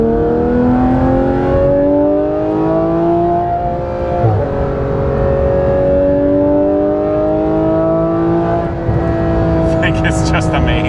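A Porsche GT3 RS with Dundon race headers and a full exhaust howls loudly in a sustained run of steady, rising engine tone heard from inside the car, with a short break in the middle and talk near the end.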